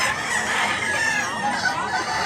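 A rooster in Cebu clucks and crows briefly, close and clear, a few wavering calls over a quiet outdoor backdrop with no speech.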